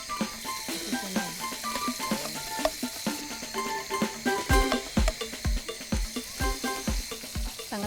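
Ginger and garlic frying in lard for eel adobo: a steady, close sizzle runs throughout, broken by sharp metallic clinks and taps that grow more frequent and regular toward the end.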